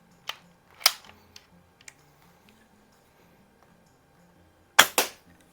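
A Benjamin 352 .22 CO2 rifle, an older 8-gram CO2 gun tested after repair, fires its first shot, piercing the cartridge: sharp close snaps near the start and a loud crack near the end, with quiet between.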